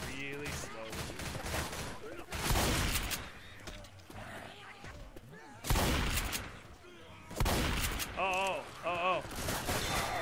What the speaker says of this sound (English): the shotgun's good, it just reloads really slowly